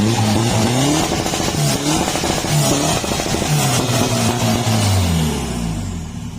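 A modified car engine with a 1.9 ECU box and faulty injectors revs loudly and repeatedly close up. The rough, pulsing surges rise and fall before settling toward idle at the end.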